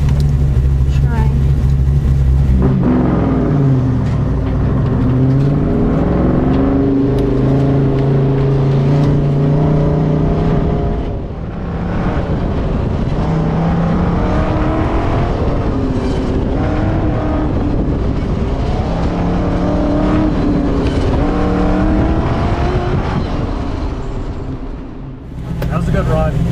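A loud race car engine revs continuously, its pitch climbing and dropping through repeated gear shifts, close and dominant for the whole stretch.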